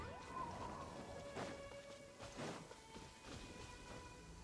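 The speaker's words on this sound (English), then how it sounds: "Taking a stroll in the middle of a downpour certainly rouses the spirit." Steady rain downpour in the video game Genshin Impact, a continuous hiss with soft broadband swells like distant rumbles, layered over sustained tonal game music.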